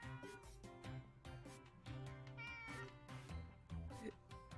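A cat meows over a busy layer of game music and sound effects, the meows rising in brief tonal bursts during a Murder by Numbers play session.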